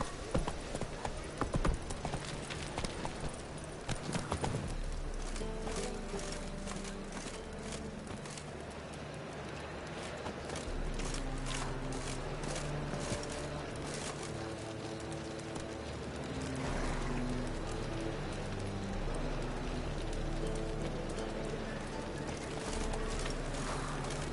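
Horse hooves clip-clop at a steady gallop in The Witcher 3, a continuous rhythmic patter running under a game music score for the whole stretch, with a faint bird call early on.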